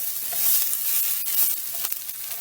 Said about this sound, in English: Now we're going to cook the white part of our green onion.